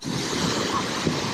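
Ocean surf washing onto a busy beach in El Salvador, a continuous rushing wash of waves with some wind, close and steady.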